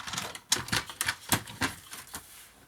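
Paper for a scrapbooking folio is cut in a series of sharp, evenly spaced snips or crunches, close and moderately loud, with no talking.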